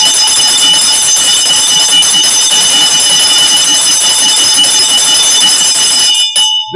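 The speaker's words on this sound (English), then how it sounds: "I'm gonna ring the bell for that." A bell rings continuously and loudly for about six seconds, a steady metallic clang with sustained tones like an alarm bell, then cuts off abruptly near the end with no talking.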